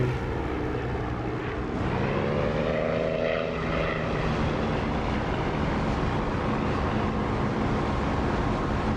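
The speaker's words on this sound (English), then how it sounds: "An A20 over there, enemy bomber, even though it's an A20." A-20 bomber in the DCS flight simulator, its propeller engines droning steadily and loudly throughout with a slight swelling pass midway, no voices.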